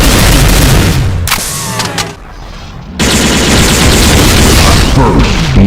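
A barrage of heavy railgun shots rips through a Doom mod, loud and close. Rapid booming blasts pound out, break into a short near-silent gap, then resume as a dense, relentless volley.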